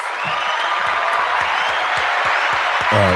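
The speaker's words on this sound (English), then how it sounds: "Let's give him a round of applause." Steady round of applause from a podcast studio audience, a dense continuous wash of clapping at even loudness from start to finish.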